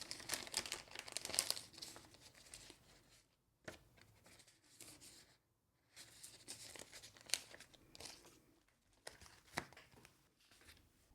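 Stickers crinkle and crackle as they are peeled and pressed into a junk journal made with Japanese ephemera, coming in close bursts of rustling with short quiet gaps between them.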